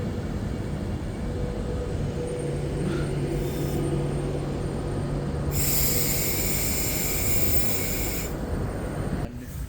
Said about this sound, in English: arriving in now is a DB Cargo UK Class 66 on the car train from Halewood to Southampton Eastern Docks, transporting some Jaguars